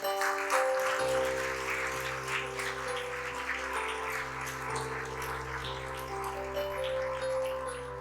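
A church congregation claps together in steady, sustained applause over held organ or keyboard chords that continue throughout.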